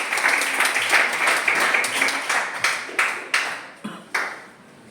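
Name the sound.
audience applause for a group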